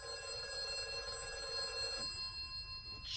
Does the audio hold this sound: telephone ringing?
yes